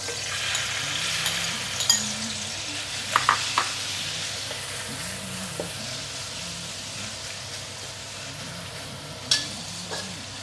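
Chicken stir-frying in a wok with bell pepper, a steady loud hiss of sizzling oil with occasional scraping and tapping of the spatula, close and continuous.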